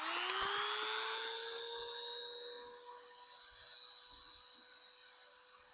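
An electric sharpener grinds a chainsaw chain tooth with a steady high-pitched whine that holds at an even level for several seconds, close and loud, with no talking.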